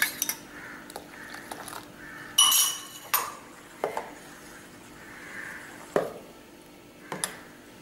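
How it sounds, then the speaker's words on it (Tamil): A spoon clinks against a metal pot or glass while sodium benzoate is stirred into a homemade mango Frooti drink. Sharp, scattered taps and scrapes sound close by over a quiet room hum. "இப்போ நான் சோடியம் பென்சோயேட் இதில் கலந்துடுறேன்"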